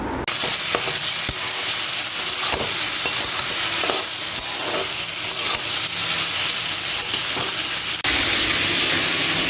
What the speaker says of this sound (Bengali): ওখানে মাছটা ভাজা হচ্ছে